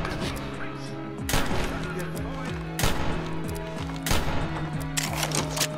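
Rapid gunfire during a Fallout 4 fight against raiders, with bursts of repeated shots and booming impacts over a droning, humming game soundtrack, loud and close.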